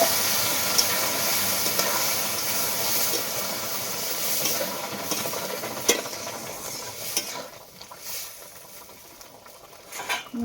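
Hot oil tempering of black cumin, dried red chilies and bay leaves poured into mung dal with potato and cauliflower gives a steady, close sizzling hiss that thins and crackles unevenly toward the end.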